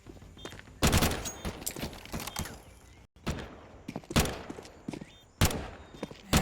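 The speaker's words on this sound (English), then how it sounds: "Shots coming through, and now LX with the MAC-10 is going to clean up a lot of players here" Bursts of rapid gunfire from a Counter-Strike match on the Ancient map, including a MAC-10, come as dense loud volleys separated by brief pauses, with faint high-pitched game effects between them.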